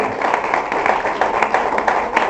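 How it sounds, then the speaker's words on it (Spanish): A church congregation applauds, a dense steady patter of many hands clapping together for a couple of seconds, fairly loud and close. "denle un aplauso, hermano,"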